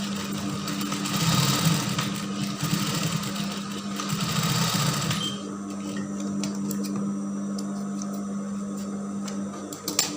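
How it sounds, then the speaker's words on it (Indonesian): Sewing machine stitching the gathered seams of baggy pants, a steady loud mechanical whir that runs continuously for about five seconds, then drops to a quieter hum with faint clicks. "Jadi kita jahit berulang kali."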